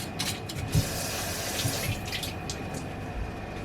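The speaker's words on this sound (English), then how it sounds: "I'm going to quickly wash and peel my potatoes." Running tap water splashes steadily into a kitchen sink as potatoes are rinsed underneath, a continuous moderate gurgle with occasional small knocks and clunks.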